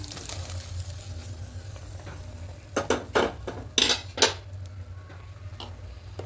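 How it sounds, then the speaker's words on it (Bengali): A spoon stirs cashews and raisins into milk in a pot for jaggery rice pudding, with a quick run of clinks and scrapes against the metal over a low kitchen hum. "খুব ভালো করে মিশিয়ে নেব।"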